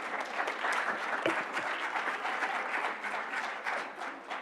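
A round of applause at a business meeting, a dense patter of many hands clapping together indoors, steady and moderately loud for a few seconds with no talk over it.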